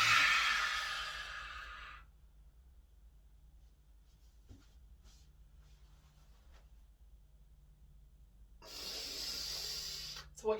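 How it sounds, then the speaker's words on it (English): Forceful breaths during an ab exercise: a loud, close rush of air for about two seconds, a quiet pause with faint small sounds, then another strong, hissing breath pushed out near the end. "We take a big inhale, big exhale, big inhale. We push the breath out."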